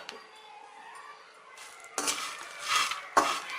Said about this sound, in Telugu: ఇప్పుడు రొయ్య తలకాయలు వేసి వేయించుకుందాం.